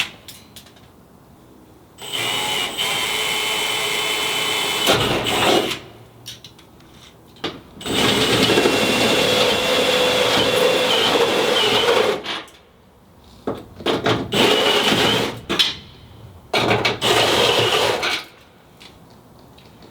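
A power drill whines and grinds through the metal body of a Ford Transit van in several long bursts, separated by short pauses with faint handling noises.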